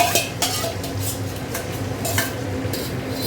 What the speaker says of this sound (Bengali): এখানে দেখো এই যে ডিমটা দিয়ে দিচ্ছে, এখানে 10টা ডিম দিয়েছে